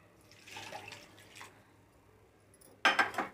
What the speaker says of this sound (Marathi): आता सध्या मी 1 वाटी पाणी घालते